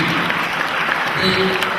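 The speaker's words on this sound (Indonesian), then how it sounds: "Tepuk tangan buat Pak Herbas" An audience at a motivational session in Indonesia applauds for Pak Herbas, a dense, even patter of clapping held steady throughout, with a faint voice underneath.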